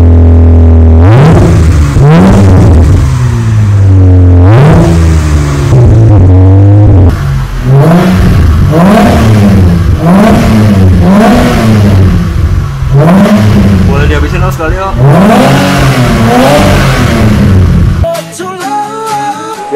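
A Mitsubishi Galant V6 fitted with a G-Ready exhaust revs repeatedly, loud rising and falling blips in a steady rhythm, close and alone with no talk.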